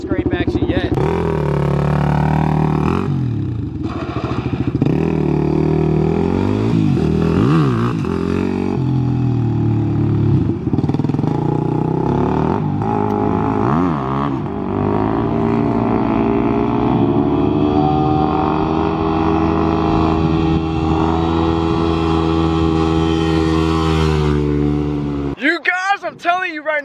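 A supermoto motorcycle revs repeatedly and rides, its engine note surging up and down in loud, rasping bursts, close by with wind buffeting, cutting out abruptly near the end.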